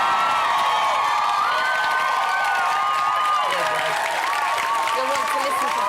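A television studio audience claps, cheers and whoops loudly and continuously, with shrill shouts rising over the applause and a voice speaking beneath the crowd noise.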